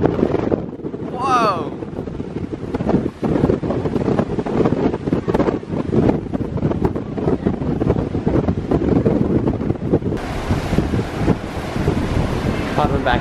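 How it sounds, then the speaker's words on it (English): Strong wind on a stormy sea aboard the Carnival Ecstasy cruise ship roars into the microphone as loud, continuous buffeting gusts, with voices heard briefly. "It's just a little wind."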